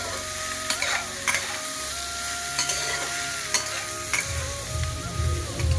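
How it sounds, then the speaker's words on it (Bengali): Ridge gourd and potato sizzle steadily in a frying pan, with clear scraping and clattering strokes of a spatula as the vegetables are stirred, close and continuous with no talking. "ঝিঙে আর আলুটা দুটোই ভালোভাবে নাড়া হয়ে গেছে"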